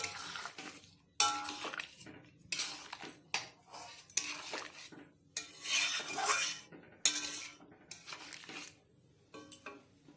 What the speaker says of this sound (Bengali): এবার একটু নেড়ে চেড়ে নেওয়া হবে